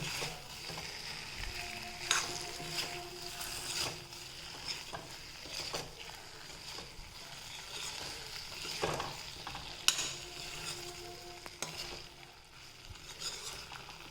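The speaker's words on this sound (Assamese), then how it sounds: "এইখিনি ধুনীয়াকৈ লৰাই দিম যাতে গোটেই মছলাখিনি ফুলকবিত সান খাই যাওক আৰু এইদৰে মই 2-3 মিনিটমান ফুলকবিখিনি ভাজি ল'ম" Cauliflower pieces stir-fry with spices in a pan, giving a quiet, steady sizzle broken by repeated spatula scrapes and clinks close by, with no talking.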